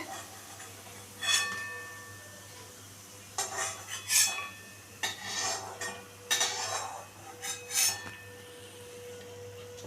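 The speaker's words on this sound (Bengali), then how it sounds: "এই বড়াগুলো ভাজা হয়ে গেছে আমি এবারে এগুলোকে তুলে নিচ্ছি" Fried fish roe fritters are lifted out of a pan with a metal utensil, giving a series of sharp scraping clinks and taps in irregular bursts, fairly close over a quiet kitchen background.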